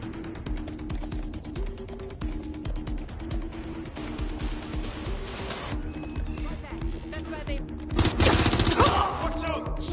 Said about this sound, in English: Watch out! Shots fired!